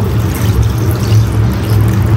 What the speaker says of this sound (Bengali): এখন অল্প একটু গরম পানি দিয়ে দিব।